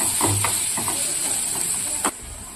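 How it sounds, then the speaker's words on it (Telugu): Ginger garlic paste frying in a hot pan gives a steady bright sizzling hiss, with a few soft stirring scrapes and a sharp knock near the end. "అల్లం వెల్లుల్లి పేస్ట్ బాగా వేగిపోయింది"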